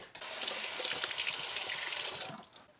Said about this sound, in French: Et puis là, je vais le rincer.